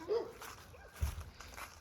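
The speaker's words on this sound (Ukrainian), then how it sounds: "Там пес." A neighbour's dog barks a few times at some distance, short sharp yelps against quiet outdoor background noise.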